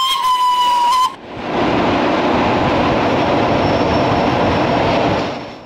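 A brief high whistle tone, then a steady loud rolling rumble as Rhaetian Railway Ge 6/6 I Krokodil electric locomotive 415 moves through Davos Platz station, holding evenly before easing off at the end.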